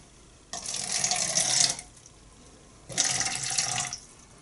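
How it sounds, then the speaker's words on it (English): Water is poured into a mixing container for a cement mix in two separate bursts, each a steady rushing splash lasting over a second, close and moderately loud, with quiet gaps between and no talking. "I'm going to go ahead and put my water in first."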